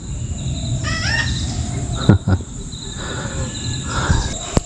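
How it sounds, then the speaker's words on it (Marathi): A pet parrot calls shrilly in short repeated bursts outdoors in a Konkan village, over a steady high insect drone and some scattered clatter. "त्या घरामध्ये एक पोपट पाळलेला आहे"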